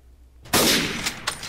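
A single sharp gunshot in the video game GTA 5 Online, a loud close burst that rings out and decays, followed by two smaller cracks or echoes.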